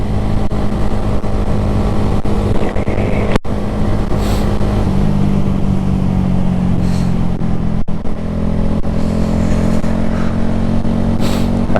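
A red Honda Grom motorcycle riding at around 50 mph, its small engine droning steadily and loud with a rising tone, wind rushing over the helmet throughout with no talking.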